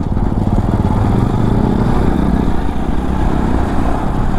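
Adventure motorcycle engine running steadily while riding on a group independence day ride toward Mukutmanipur Dam, a loud continuous rumble with wind noise throughout.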